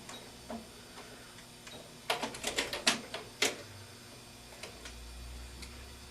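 Sewing machine back stitching a mitered corner of fabric, a quick burst of sharp mechanical ticks in the middle of otherwise quiet room tone.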